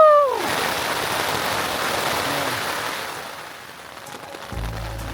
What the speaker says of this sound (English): it was just an afternoon full of rain